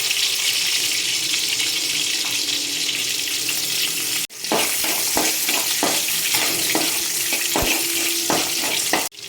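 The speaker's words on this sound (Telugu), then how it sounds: "అల్లం వెల్లుల్లి వేసేసుకుంటున్నాను" Ginger and garlic sizzle in hot oil for a fish curry gravy, with a steady loud hiss throughout. After a brief break, rhythmic stirring scrapes and taps run over the frying.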